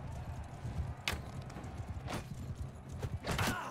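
Horse hooves pound rhythmically during a mounted battle in the Mount and Blade 2 Bannerlord video game, with a busy low rumble of galloping and several sharp bursts of combat noise over it.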